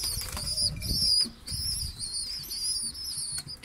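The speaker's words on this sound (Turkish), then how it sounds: "Amanın bunlar savaş yapıyor. Yem savaşı." Bango pigeons scuffle over feed, with bursts of close wing flapping and fluttering, a louder flurry early on, and thin high bird chirps running through.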